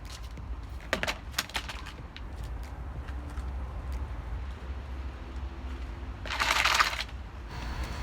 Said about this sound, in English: That sound you hear is me kicking the laundry basket over a little bit